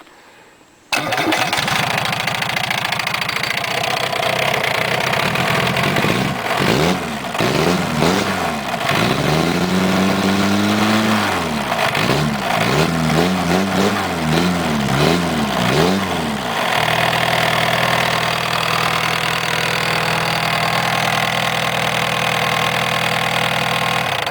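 A golf cart engine with glow plugs cranks, catches and settles into a loud, steady run, its revs rising and falling in several bursts before holding at a rough, constant idle.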